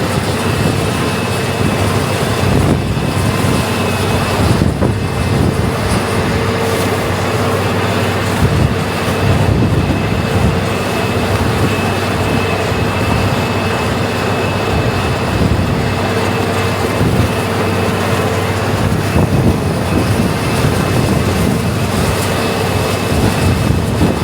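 A tracked crawler working in a manure lagoon pit, agitating the slurry, gives a loud, steady engine drone with a broad mechanical rumble that holds without a break throughout.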